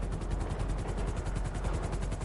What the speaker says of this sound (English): Okay, helicopter's landing.